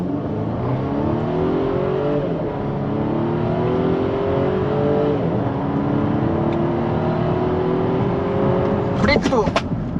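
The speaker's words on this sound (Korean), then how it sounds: "브레이크를 밟은 상태에서 RPM은 2000까지 올리고 한번 출발해 보도록 하겠습니다" A Volvo XC40 B4 engine revs to 2000 RPM against the brake and pulls away, pitch climbing through several gear shifts in a steady, loud acceleration, ending with a few sharp clicks.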